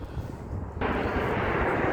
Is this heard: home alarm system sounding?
no